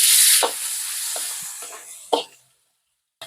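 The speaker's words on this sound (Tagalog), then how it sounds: "Maglagay na tayo ng mantika. Lagyan na natin ng bawang, sibuyas." Garlic, onion and chicken hit hot oil in a pan, a loud hiss that fades over a couple of seconds, with a few short stirring scrapes and a final burst of sizzle before quiet.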